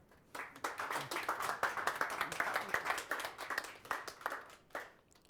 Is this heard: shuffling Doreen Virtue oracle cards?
no